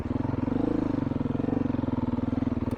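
Beta 500 dual sport motorcycle riding on Colorado singletrack, its engine thumping in a fast, steady pulsing rhythm at close range, with a slight swell in pitch early on.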